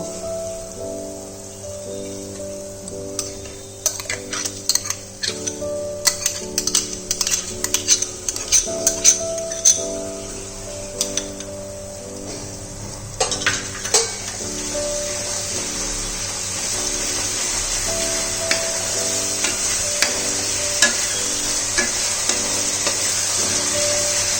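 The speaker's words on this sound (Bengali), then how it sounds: "পেঁয়াজটা ভালোভাবে ফ্রাই হওয়া পর্যন্ত মশলাটার সাথে মিশিয়ে নিয়ে ভালো করে ফ্রাই করে নেব" Onion paste fries with spices in a pan for a raw jackfruit and prawn curry. A spoon stirs with repeated clinks and scrapes over a steady sizzle that grows louder toward the end, with faint tonal music underneath.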